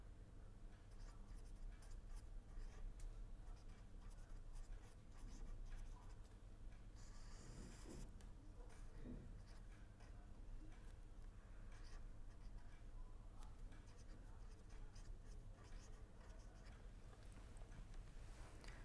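Chalk or marker writing out equations during a lecture, a steady faint scratching run under room hum with a few brief louder strokes.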